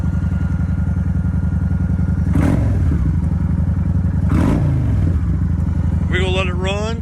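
A motorcycle idling on a cold start, a steady low throbbing close by, with two brief louder bursts and someone talking over it.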